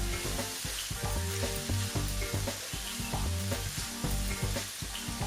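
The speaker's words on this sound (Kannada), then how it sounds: "ನೋಡಿ, ಈಗ ಒಳ್ಳೆ ಫ್ರೈ ಆಗಿ ಬಂತು, ರೋಸ್ಟೆಡ್ ಆಗಿ ಬರ್ತಾ ಉಂಟು ನಮ್ಮ ಬಂಡಸ್ ಸುಕ್ಕ." Squid sukka frying and roasting in a pan gives a loud, steady sizzle, with dense crackling and the scrape of stirring running throughout.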